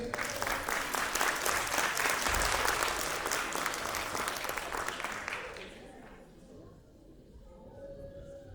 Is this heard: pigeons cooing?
no